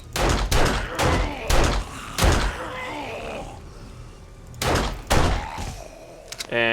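Shotgun blasts in the survival game 7 Days to Die, Alpha 19, a run of sharp, loud booming shots fired in quick uneven succession, each with a short decay, then a few softer clicks and thumps at the end.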